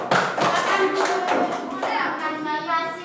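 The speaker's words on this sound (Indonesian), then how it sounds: "tepuk tangan untuk Jackson" Primary schoolchildren in a classroom clap briefly for a classmate, a short burst of uneven hand claps and taps mixed with children's voices and an adult speaking.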